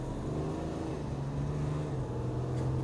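Land Rover Defender fitted with a BMW N57 diesel engine drives along, its steady low engine drone and road noise heard from inside, fairly even throughout.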